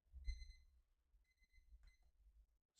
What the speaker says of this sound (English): My timer went off here.